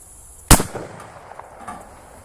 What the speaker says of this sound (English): I'm just going to go ahead and send one of these M855A1 rounds